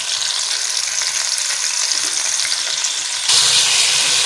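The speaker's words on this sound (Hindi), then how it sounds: "अभी हम डाल लेते हैं बोनलेस चिकन, फ्रेश बीन की फलियों के लिए हम बोनलेस चिकन डाल रहे हैं। इसको फ्राई कर लेते हैं।" Boneless chicken fries in a pan for a spiced fresh green bean dish. A loud, steady, close-up sizzle hisses throughout and intensifies sharply near the end, with no voices.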